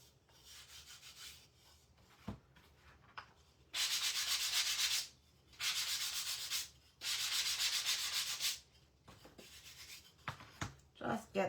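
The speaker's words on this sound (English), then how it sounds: "Just gonna go over it with my 120 grit sandpaper" Rough edge of a wooden craft block rubbed with worn 120-grit sandpaper: three long, loud, steady scratchy strokes of about a second each, framed by shorter, lighter rubs and brief pauses.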